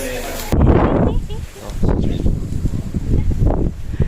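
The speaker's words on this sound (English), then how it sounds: "It's windy and cold." Gusty, cold wind buffets the microphone in loud rumbling bursts on the Seongpanak Trail of Mount Hallasan, rising and falling over a few seconds outdoors.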